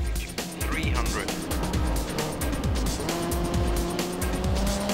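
Rally cars racing in a video game, engines roaring continuously with rising and falling revs and tire noise, loud and dense throughout.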